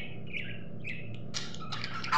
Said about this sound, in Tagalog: Good morning, my cutie cutie birds.